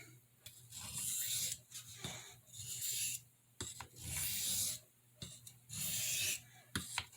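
The pen blade of a Boker C75 red jig bone knife is stroked across a sharpening stone in a series of close, gritty rasping passes separated by short pauses.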